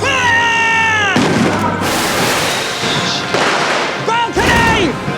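Staged barricade battle for a Les Misérables film shoot: a loud shouted command, then several heavy cannon booms and crashes in close succession, mixed with yelling voices.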